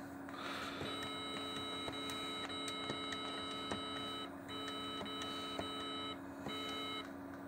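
A deactivated Amstrad E3 video phone gives a repeated electronic beeping and chirping each time a button is pressed, with steady tones and a ticking pattern running through the clip under a faint background hum.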